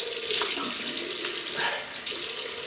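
A bathroom tap runs steadily into a sink as water is used to wet the face before a shave, a close, continuous splashing hiss with brief hand-splash changes and no talk.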